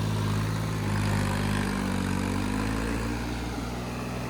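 Swaraj 855 tractor engine held at high throttle, a steady loud droning roar with strong low harmonics and no pauses throughout.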